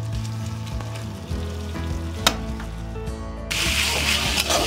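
Oyster mushrooms fry in a pan with a steady, close sizzle, a sharp crackle or stir near the middle, and the hiss growing brighter and louder toward the end; no one speaks.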